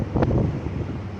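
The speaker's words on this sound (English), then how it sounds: "It's pretty windy, you can tell by the video probably, and the trees moving." Strong gusty wind north of Flagstaff, Arizona, with trees moving, roars and buffets the microphone as a low broadband rumble for just over a second, with a brief louder gust near the start and no talk.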